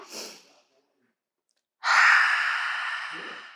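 During a family yoga class, a person takes a big breath and exhales warm air through an open mouth. A faint short breath comes first, then after a pause one long, loud, close exhale that slowly fades.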